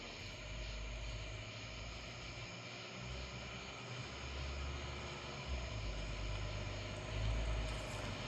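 A Lexus GS350 fitted with an axle-back exhaust is driven, giving a continuous, deep, low drone with a steady rumble throughout and no talk.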